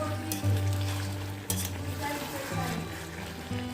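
Chicken frying in a pan as it is cooked down into a thick kosha curry, a loud close sizzle with spatula scrapes and a couple of sharp clinks against the pan.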